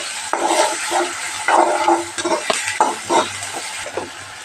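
Onion and chili paste fry in hot oil for a whole eggplant curry, giving a steady close sizzle and hiss with some stirring and no talk.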